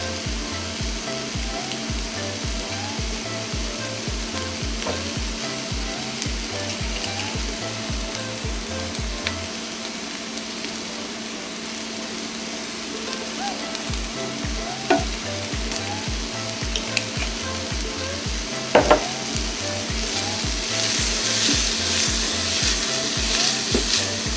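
Steady sizzling from garlic, jalapeno and cumin sauteing in a pot for vegetarian chili, with occasional stirring scrapes and a faint rhythmic low hum underneath, no talking.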